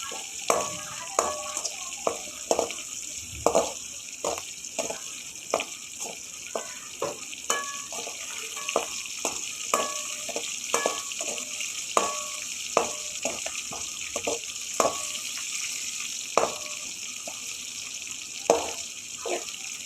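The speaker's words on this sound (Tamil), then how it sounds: "வெங்காயம் வந்து இதில் நல்லா வதங்கணுங்க வதங்கும் போது தான் நமக்கு கிரேவிக்கே ஒரு நல்ல டேஸ்ட் கொடுக்கும்" Onions sauté in oil in a pan for chicken gravy, a constant sizzle running underneath while a spoon stirs and scrapes in frequent sharp clacks and taps, close and steady throughout.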